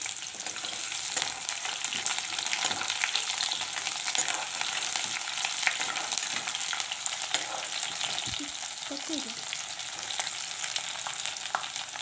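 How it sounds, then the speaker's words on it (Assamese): Chopped onions fry in hot mustard oil with a bay leaf, a steady close sizzle with occasional stirring scrapes and crackles, running unbroken with no voices. "পিয়াজখিনি অলপ সময় ভাজি লম।"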